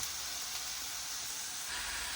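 Mushrooms sizzling in a hot pan for a ravioli white sauce, a steady bright hiss with no breaks, close and even, with no talking.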